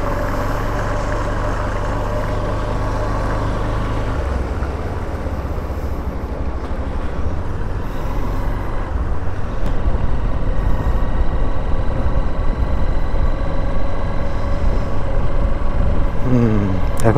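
A motorbike rides along the beach at Cox's Bazar, its engine a steady, moderate drone mixed with wind and surf-like hiss that grows slightly louder partway through.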